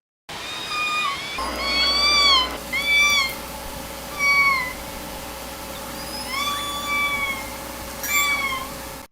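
K-pod orca calls with high, thin, meow-like rising and falling squeals, coming in several separate bursts over a faint underwater hum.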